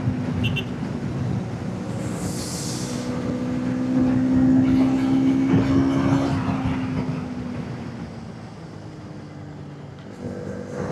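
A 2025 Bajaj Pulsar NS200 cruises in fifth gear at speed, its steady engine drone humming under rushing wind noise, the pitch rising slightly mid-run and then easing off.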